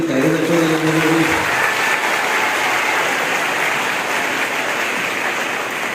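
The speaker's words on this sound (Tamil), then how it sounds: "பலமாக கைதட்டு" Audience applause at a Women's Day celebration hosted by an education group, a dense, steady wash of clapping from a crowd that carries on for the whole stretch, with a brief voice at the very start.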